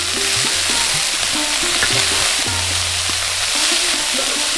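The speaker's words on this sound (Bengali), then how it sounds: "এবার এইভাবে উল্টিয়ে উল্টিয়ে মিশিয়ে নেব যাতে আলুগুলো ওপরে চলে আসে" Shredded cabbage and potatoes sizzle loudly and steadily in a hot pan, with scraping stir strokes turning the mix throughout, no voices present.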